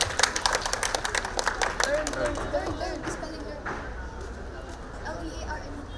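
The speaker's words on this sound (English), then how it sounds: "Can we have a huge round of applause for Feliciana, please?" Audience at a book fair event in Shillong gives a burst of clapping that is loud at first and then fades into crowd murmur and voices.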